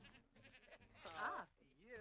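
Goat bleating in a video game, a loud wavering cry that rises over the middle of the clip, mixed with game sounds and a nearby voice talking.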